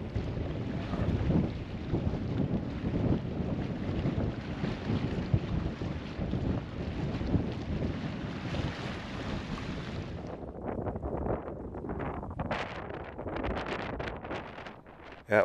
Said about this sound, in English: Water's getting a little choppy, that wind is really picking up.